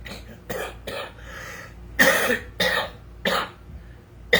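Harsh, loud coughs in a ragged series of about six bursts, some clustered close together, near and alone with no talk.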